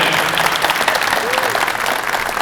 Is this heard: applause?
yes